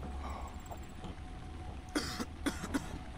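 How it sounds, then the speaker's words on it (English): A short burst of three or four dry coughs, fairly close, following a quiet stretch of room noise. "coughing"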